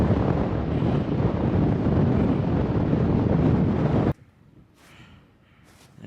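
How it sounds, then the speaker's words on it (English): Strong wind gusts on an exposed mountainside batter the microphone with a loud, roaring rush for about four seconds, then cut to near quiet with faint hissing puffs. "There's some strong wind gusts on this side of the mountain"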